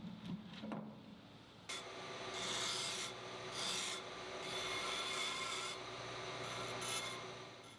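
Burrs being scraped off a freshly machined gear turning on a lathe, a steady close rasping rub that starts after a brief quiet lead-in and swells in broad waves for several seconds, with no talking.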